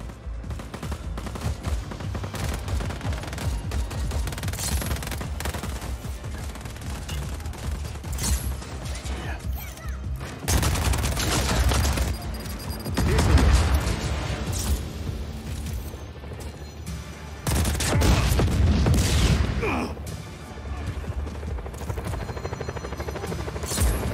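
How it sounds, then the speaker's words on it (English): Video game gunfire in Just Cause 4, dense bursts of automatic shots and explosions over a continuous low rumble like a helicopter, loud and sustained, swelling in several heavier volleys. "Shoot anyone that tries to stop you."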